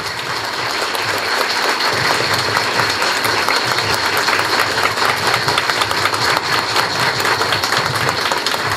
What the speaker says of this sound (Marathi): अपील न करता किती टाळ्या वाजवल्या तुम्ही.